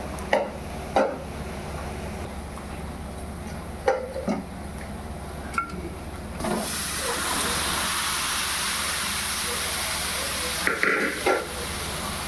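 Boiled pork meets sautéed spice masala in a pan for an Indian-style pork curry: a few scattered knocks and scrapes give way to a loud, steady sizzle and hiss that persists, with occasional stirring clatter.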